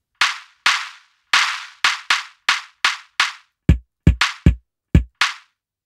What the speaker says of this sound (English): So that's starting to sound a little bit like a clap.